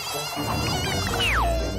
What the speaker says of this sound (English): Oh no! More mosquitoes!